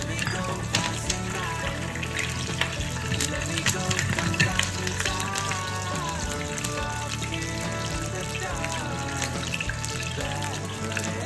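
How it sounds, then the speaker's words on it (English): Mustard seeds, red chili and curry leaves fry in hot oil for a fish curry, giving a steady dense sizzle with crackling pops running throughout at moderate loudness. "I'm going to add some mustard seeds, and I'm going to add the red chili, more red chili,"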